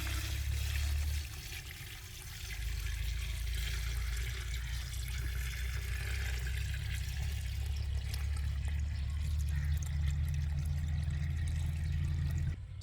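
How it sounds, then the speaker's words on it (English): Rainwater or chlorine-free water poured into a bucket, a steady close splashing and gurgling stream lasting several seconds, with a brief dip early on and no talking. "then fill the bucket with rainwater or any water that's free of chlorine"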